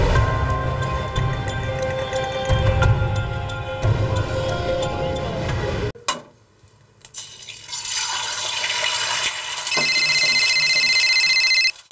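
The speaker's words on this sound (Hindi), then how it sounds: "नाज, देखना तेरा फोन बज रहा है।" A phone rings in a scene of the Hindi TV crime series Crime Patrol, with steady electronic tones rising after a noisy stretch and a brief quiet gap.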